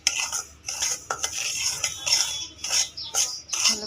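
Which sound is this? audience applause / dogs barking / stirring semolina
stirring semolina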